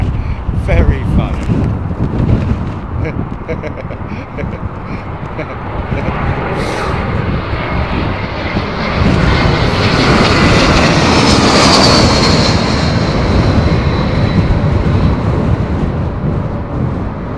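A propeller or jet airliner departs on runway 27 left at a windy London Heathrow Airport, its loud, broad engine roar building and sustained with wind noise.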